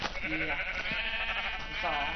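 Sheep bleating in Minecraft, a few wavering cries close and clear, with a game-world background running underneath.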